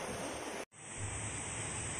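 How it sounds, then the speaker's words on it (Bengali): Floodwater left by a night of heavy rain rushes and drains away near a pond in a steady, broadband roar, close and continuous, broken by one brief dropout before resuming. "প্রচুর পানি নামছে।"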